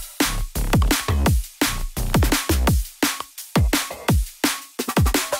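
Melodic drum and bass from FL Studio with drum fills locked to a heavy bass line: loud, punchy kicks and snares hit in a steady driving pattern over deep, sliding bass notes, full and continuous throughout.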